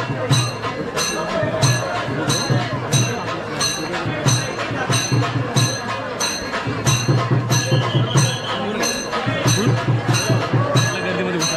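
A dense crowd of devotees packs a Ganpati pandal in Pune during Ganesh Chaturthi, with a steady babble of voices throughout and a bell ringing in regular strikes above it. A loud voice on a public address system speaks intermittently over the din.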